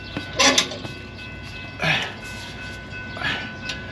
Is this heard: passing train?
yes